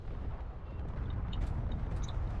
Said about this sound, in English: That was a massive explosion.